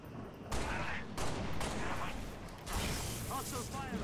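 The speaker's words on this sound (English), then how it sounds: "Hostile fire at my position." Hostile gunfire in Halo: Reach combat, sounding as dense rattling volleys that cut in and out in several loud stretches, with a voice briefly audible amid the shooting.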